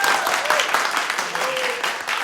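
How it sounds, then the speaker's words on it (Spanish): An audience gives a steady round of applause for a Chilean musician at a live event, dense clapping sustained throughout with a voice briefly audible beneath it. "Así que un aplauso, por favor."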